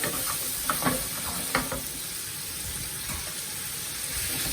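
Chicken seasoned with salt and pepper fries in a pan with a steady, close hiss of sizzling fat and a few light clinks of stirring.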